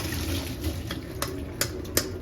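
Water drained off a pot of boiled flat beans (avarekai) makes a steady pouring, splashing rush with a few sharper splashes near the end.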